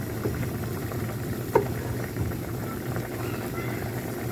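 Adobong karne with sitaw simmers in a pan with no oil, its water reducing. A steady low bubbling hiss runs throughout, with one faint clink near the middle.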